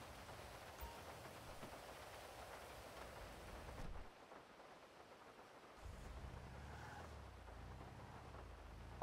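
Steady rain in the video game GTA 5, a dense continuous hiss with a low rumble underneath that drops out briefly midway, then returns, with no voices over it.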